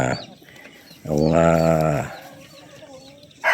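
Pet chicken at a brother's hut on a lot, a single clear drawn-out cluck or squawk lasting about a second, close by, with quiet ambient sound around it.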